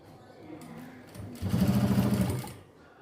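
A sewing machine stitches a folded hem on a small doll dress, whirring up for about a second of fast close buzzing after a quieter start, with a faint voice in the background.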